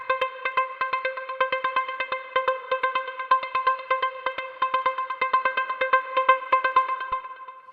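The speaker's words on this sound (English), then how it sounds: "Below that, we have these one note pluck sounds." One-note synth plucks made in Serum for a melodic house track, short bright repeated plucks in a steady rhythmic pattern, clean and isolated without other instruments or voices.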